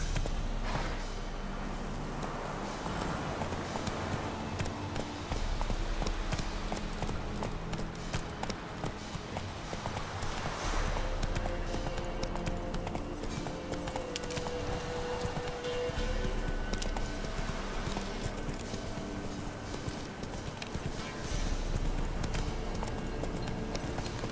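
Galloping horse hooves in The Witcher 3 pound in a steady, driving rhythm for the whole stretch, loud and close, with game ambience and occasional faint whinnies mixed underneath.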